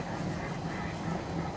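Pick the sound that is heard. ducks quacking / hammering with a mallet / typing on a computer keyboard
ducks quacking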